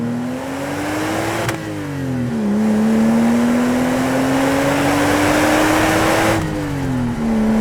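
A Porsche 2.5 litre flat-six with a custom exhaust revs steadily under load, rising through gears with brief dips at two shifts, loud and close with a smooth, throaty drone.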